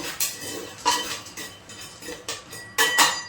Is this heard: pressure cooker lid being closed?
yes